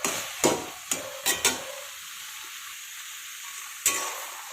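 Traditional solka, cooked without oil or turmeric, is stirred in a pan: a handful of sharp scrapes and clacks, three bunched early and one later, over a faint sizzle that drops away between strokes, close and with no voices.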